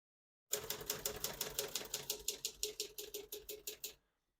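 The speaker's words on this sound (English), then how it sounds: "all the keys type nice and none of them skip or stick" Keys of a 1973 Olivetti Studio 45 portable typewriter strike one after another in a quick, fairly even run of about twenty crisp clacks, close and alone, ending abruptly.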